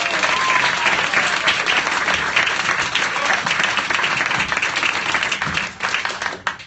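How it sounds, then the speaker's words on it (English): Loud, dense audience applause for a performer at a live variety show, continuous clapping that holds strong before thinning out near the end. "Round of applause again for Chris."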